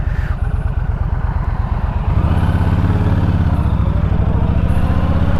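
A stock Yamaha Stryker motorcycle fitted with bags and a windshield, its V-twin engine chugging with a loud, close, rhythmic lope that deepens into a steady, heavier drone as it pulls away and rides on.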